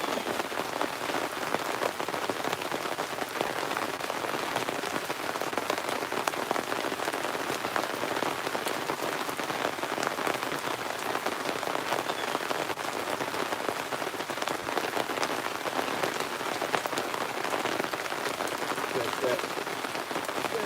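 Steady rain falls outdoors at a gold sluicing site, a dense, even patter on surfaces that runs unbroken from start to finish with no pauses.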